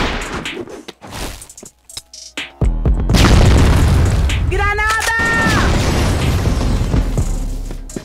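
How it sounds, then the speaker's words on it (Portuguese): A grenade going off in a ranked online shooter match, a heavy boom followed by a long rumbling wash of noise, mixed in with excited voices and game sounds. "Granada!"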